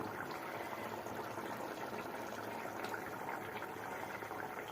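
Fish curry with a little ground coconut being ladled straight from the stove and poured over rice, a steady close liquid pouring and splashing texture that runs continuously without pause and with no voices.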